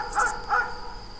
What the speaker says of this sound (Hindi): कुत्ते इधर उधर दौड़ते हुए भौंक रहे थे।